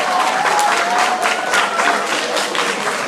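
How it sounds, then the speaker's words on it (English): Middle school students applaud together at a speaking event, a dense, steady wash of clapping filling the room for the whole stretch, with faint voices and a few whistles mixed in. "All right, clap it up, clap it up,"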